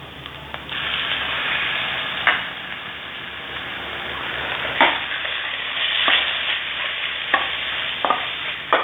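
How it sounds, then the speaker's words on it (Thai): Minced pork and stink beans with shrimp paste stir-fried in a pan, a continuous close sizzle broken by several sharp scrapes of a spatula against the pan at uneven intervals. "ผัดหมูสับให้สุกนะครับ"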